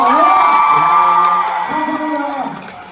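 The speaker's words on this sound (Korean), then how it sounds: "우리 두 분께 큰 박수 한번 치고 가겠습니다" A fan meeting audience cheers and whoops loudly, the roar fading gradually over a few seconds.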